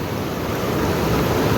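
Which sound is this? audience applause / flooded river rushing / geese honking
flooded river rushing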